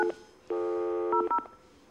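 Telephone keypad tones as a number is dialed, a short beep, one long held tone, then a quick run of brief beeps, clear and close with no talk.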